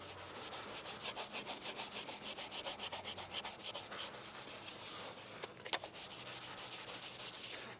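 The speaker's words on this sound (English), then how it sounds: "We're gonna clean this up. I usually use a red Scotch-Brite." Red Scotch-Brite pad scrubbed back and forth over car bodywork with lacquer thinner, a close rhythmic rasping rub of quick regular strokes that slows and turns irregular toward the end, with a small knock partway through.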